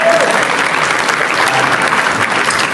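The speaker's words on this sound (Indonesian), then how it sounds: "Oke, tepuk tangan buat Pak Anies." Dense, loud crowd applause for Pak Anies at an Indonesian public talk, continuous clapping from a large audience filling the whole stretch.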